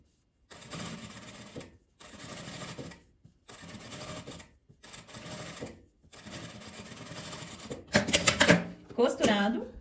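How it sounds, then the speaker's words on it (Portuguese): A sewing machine stitches around a circle of fabric in several steady mechanical bursts separated by short pauses, then handling clatter follows at the end. "E você vai costurar em volta dele."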